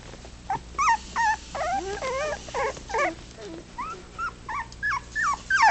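Four-week-old puppies whimper and whine in a rapid series of high, wavering cries, a dozen or so short yelps close by with brief gaps between them, no one talking.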